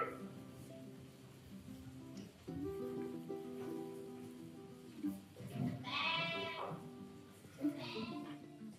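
Sheep bleating in a farm setting with livestock being sorted, several drawn-out bleats rising at mid-clip and again near the end over a busy, moderately loud background of animal noise.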